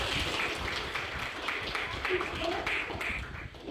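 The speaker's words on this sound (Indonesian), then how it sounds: "Bagus, tepuk tangan." Children in a classroom clapping their hands, a rapid, loosely rhythmic patter of claps close by with voices mixed in, fading at the end.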